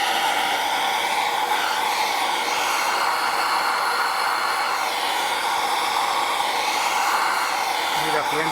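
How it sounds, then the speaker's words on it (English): A heat gun roars steadily and loudly throughout, warming the Volvo R.E.A.D. rear end accessory drive case, a constant broadband hiss with no talk over it. "Go ahead and heat up the case."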